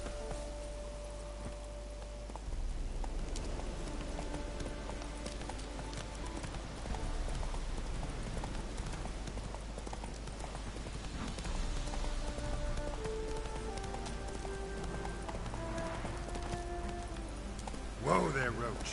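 Hooves of Geralt's horse Roach trotting in The Witcher 3: Hearts of Stone, a steady clip-clop carried under game ambience with rain-like hiss and faint background music, louder near the end.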